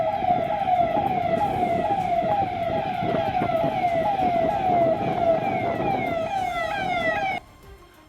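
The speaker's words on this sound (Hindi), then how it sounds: "सायरन बजाती हुई पुलिस के काफिले की गाड़ियां तराना इलाके की गलियों और बाजारों से जाती दिखी।" Police convoy vehicles driving through the streets and markets of Tarana with sirens blaring, several overlapping wailing sirens sweeping up and down loudly and steadily, then cutting off abruptly near the end.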